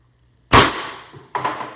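A Valken M17 airsoft gun shooting full auto at standard pressure, a loud close sharp burst followed by a decaying rush and a second shot, with no talking.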